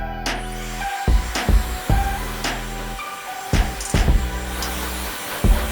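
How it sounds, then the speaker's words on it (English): A hair dryer runs at high heat and high power for a rough dry, its loud close whir wavering and surging repeatedly as the airflow shifts and is partly blocked. "So using high heat and high power, and just blow drying my hair as quickly as possible."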